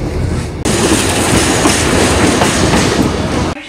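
A train on the Kuranda railway in Queensland rumbles loudly and steadily, with dense rolling wheel clatter and carriage noise filling nearly the whole stretch before cutting off near the end, with no talking.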